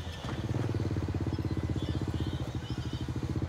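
Cummins NTA855-R1 diesel engine, rated 350 horsepower at 2,100 rpm, powering a three-car air-conditioned express railcar train, idling with a steady, loud, rapid low throbbing pulse close by.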